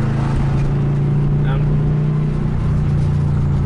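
Steady low engine and road drone from inside a moving racecar on new tires, with a constant tire hum and faint background voices.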